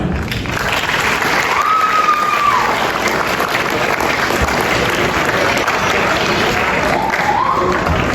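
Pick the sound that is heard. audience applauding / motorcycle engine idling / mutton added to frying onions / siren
audience applauding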